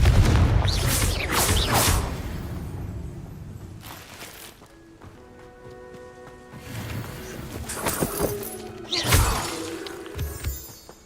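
A Confringo fire spell from Hogwarts Legacy goes off in a few sharp, shattering blasts with crackling debris between them, over a quieter tonal game backdrop.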